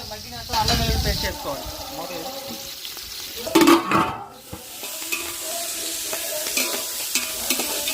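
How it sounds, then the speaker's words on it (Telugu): Spoon stirring and scraping through curry leaves, green chilies and spices sizzling in oil in a pan for chicken biryani, with close clattering strokes and a steady fry hiss underneath. "కొన్ని కరివేపాకు ఇవన్నీ వేసుకొని బాగా కలబెట్టాలి"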